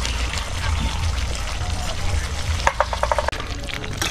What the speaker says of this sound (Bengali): কাজু বাদাম বাটা দিয়ে ভালোভাবে ঘুরতেই থাকতে হবে, না হলে কিন্তু কড়াইতে এঁটে যাবে।